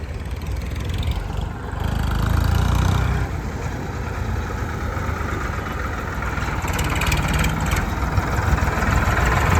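A modified 1989 Ford 3600 tractor idles with a steady low diesel rumble, close and continuous, swelling slightly for a moment before settling back to an even chug with no talk over it.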